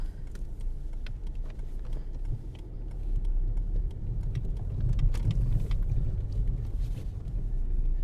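A car drives along a road toward a village, giving a steady low rumble of engine and tyre noise with wind buffeting throughout and no talk.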